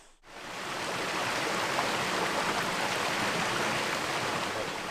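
Steady, full-bodied rush of a waterfall at Geomnyongso, a limestone gorge spring in Taebaek, roaring continuously and close after a brief quiet start, with no voices.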